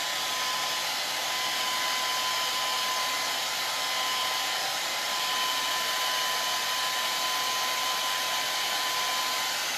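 A hair dryer blows steadily on painted handmade pea pods and carrots, a loud, constant whooshing roar with a thin whine throughout and no talking.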